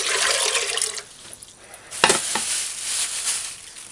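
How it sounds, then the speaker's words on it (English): Water being poured into a pressure cooker pot on a stove, a loud close splashing hiss that dips briefly, then resumes with bubbling, sizzling churn. "Add 4 cups of water."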